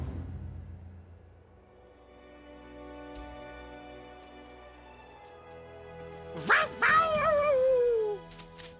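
A cartoon dog in the Bakugan series gives a short burst of high, sliding yelps and whines near the end, after a quiet stretch of soft tonal background.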